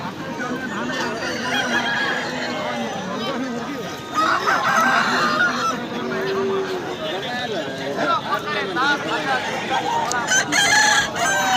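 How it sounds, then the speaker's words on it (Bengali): Roosters crow repeatedly at a busy rooster market in Talatal, Purulia, with clucking fowl and a steady background of crowd chatter and people talking throughout. "এই হাটে খুব সুন্দর সুন্দর মুরগ নেমেছে"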